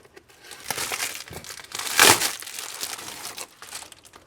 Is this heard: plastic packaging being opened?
yes